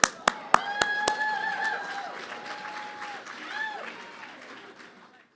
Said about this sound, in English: Anybody else want to feel really good and get a big round of applause?